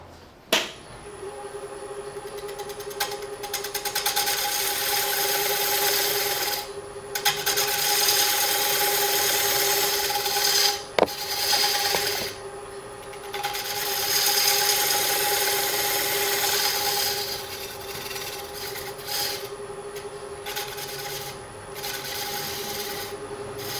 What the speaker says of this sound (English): I'm going to switch to my 3/8 fingernail gouge and finish this raised part here